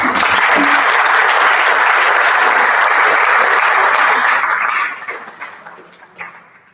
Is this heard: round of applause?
yes